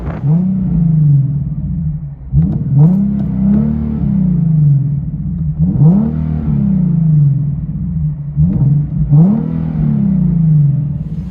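A 2015 Nissan 370Z 3.7L V6 with muffler delete revs, heard from inside the car: four or five deep, droning surges rising and falling, steady and loud, with no talking.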